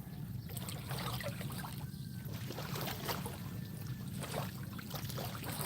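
Small waves roll up on a beach in Bohol, Philippines, with soft continuous wash and trickle, gentle and fairly faint, without clear breaking surges.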